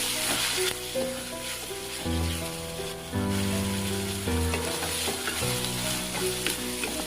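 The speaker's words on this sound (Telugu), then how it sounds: "ముందుగా దంచిపెట్టి ఉంచుకున్న అల్లం వెల్లుల్లి పేస్ట్ని ఉల్లిపాయల్లో వేసి పచ్చివాసన పోయేంత వరకు ఫ్రై చేసుకుందాం" Pounded ginger-garlic paste fries with onions in a pan for a cashew fry, giving a continuous sizzle with stirring, heard beneath steady background music.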